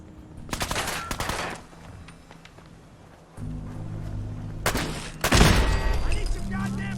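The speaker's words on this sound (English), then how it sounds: "I have 2 field tests to demonstrate what it's like to use this handgun out in the Boston Wastes" A handgun fires in Fallout 4 with a modern firearms mod out in the Boston wastes, loud separate bursts of shots spaced apart with a big booming blast near the end, over game ambience and voices.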